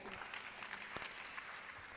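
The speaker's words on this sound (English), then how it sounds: "A round of applause for her one more time." Applause from an audience, a quiet, continuous patter of clapping heard from a distance.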